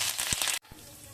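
Mustard seeds, cumin, fenugreek, asafoetida, dried red chillies and curry leaves hit hot oil for Gujarati white kadhi, giving a dense, bright crackling sizzle that cuts off abruptly, then a softer sizzle continues close by.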